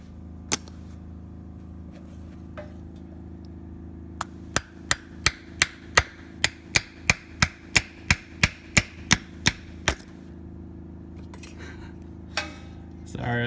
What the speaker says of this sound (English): I'm gonna get the alignment tool, just hammer it in a little bit, and then I'll pound it